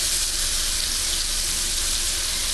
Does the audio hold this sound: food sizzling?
yes